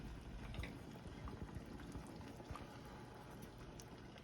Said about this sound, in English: When the water is fully boiling, you want to add your veggies